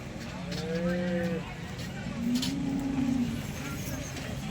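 A Jersey cow moos twice nearby, long and low, over a murmur of background voices and outdoor noise at the Sangola cattle market.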